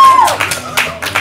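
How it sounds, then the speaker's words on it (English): A comedy improv theater audience claps and cheers in a brief loud burst at a match show, dense crowd applause close by with a short whistle at the start. "Is that enough cheering?"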